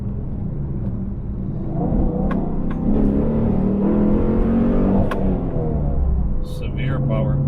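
A cammed Dodge Challenger R/T accelerating, its engine a loud, steady, rough rumble that builds as it pulls through the gear, heard from inside the car while people talk.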